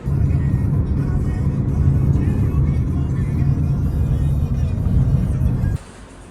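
A car idling or arriving near a small airport to collect travellers, a steady loud engine rumble and whir that cuts off abruptly near the end, with no talk over it.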